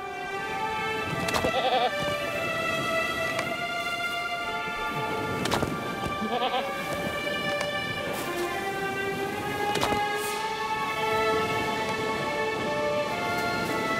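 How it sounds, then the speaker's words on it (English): Goats bleat repeatedly in the game LOTRO, several short calls rising over a steady backdrop of game music and ambient tones, fairly loud and close with no talk. "Please, help the afflicted goats and pigs here on their way back to good health."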